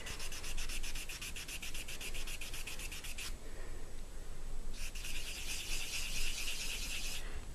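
A nail buffer rubs back and forth across a fingernail in quick, even strokes, pauses for about a second and a half, then resumes the same steady rasping rhythm up close.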